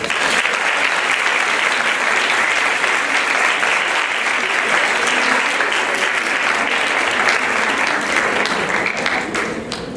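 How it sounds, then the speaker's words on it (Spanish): An audience at a keynote conference lecture breaks into loud, sustained applause, a dense, even roar of many hands that holds steady for ten seconds and eases slightly at the very end. "le damos un enorme aplauso"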